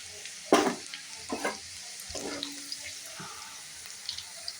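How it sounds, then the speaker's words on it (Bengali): Spices hit hot oil with a sudden sizzle and crackle, then a few more bursts of frying hiss and stirring over a steady background hum. "এবার আমি ফোড়নটা দিয়ে দিচ্ছি"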